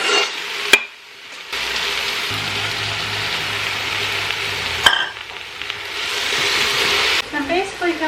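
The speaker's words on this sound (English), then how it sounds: "cooking those, stirring them until you want the onions to kind of caramelize" Vegetables and onions sizzle loudly in an Instant Pot while being stirred, a steady close frying hiss broken by a couple of sharp clicks and scraping stirs.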